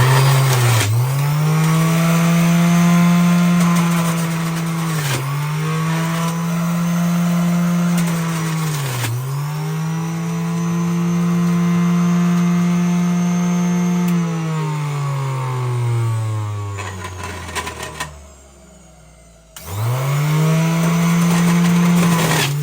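A Philips Viva Collection juicer's motor whines loudly as whole oranges are fed in. Its pitch sags and recovers with each fruit, then the motor winds down, stops briefly and starts again.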